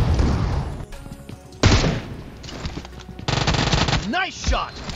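Rapid Uzi fire in the mobile battle royale game PUBG Mobile comes as dense bursts of automatic gunfire mixed with in-game effects, loud and close, with a whooshing sound near the end.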